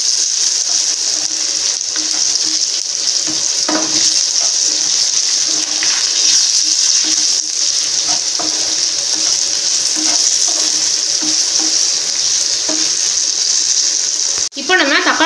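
Onions sautéing in a pan for garlic kuzhambu, a continuous loud sizzle with occasional stirring clatters and a sharp knock near the end.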